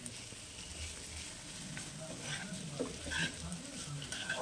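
Pre-boiled chicken is stirred into frying masala in a pan for chicken bhorta, giving a faint, steady sizzle with occasional soft scraping and clinks of the spatula.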